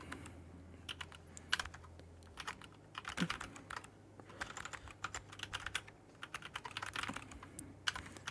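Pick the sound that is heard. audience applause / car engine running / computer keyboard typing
computer keyboard typing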